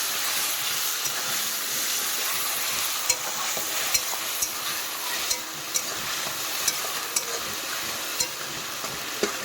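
Onion paste frying in hot oil for chicken gives a loud, steady sizzling hiss with faint stirring clicks scattered throughout, close up and with no voices.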